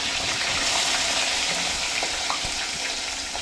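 Green chillies, curry leaves and onions fry in oil for colocasia leaf rolls, giving a continuous close sizzling hiss with faint scattered clicks and no talking.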